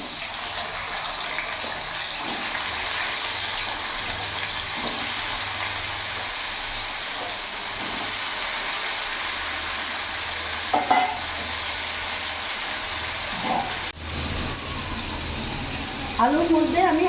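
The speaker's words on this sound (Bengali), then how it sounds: "আলুটা আমি ভেজে নেব" Diced potatoes fry in refined oil with a steady, dense sizzle that runs the whole time, broken by a few sharp clicks of a utensil stirring and scraping near the end.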